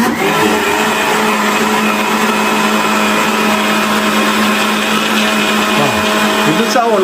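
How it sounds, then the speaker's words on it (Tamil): An electric mixer grinder runs at high speed in a home kitchen with a loud, steady whirring roar that holds constant throughout, with voices talking underneath. "கர கர கர கரன்னு அரைக்குதா?"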